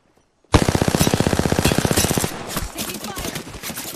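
In the video game Apex Legends, automatic gunfire aimed at the player rattles out as a loud, rapid burst of evenly spaced shots, then breaks into scattered, ragged fire.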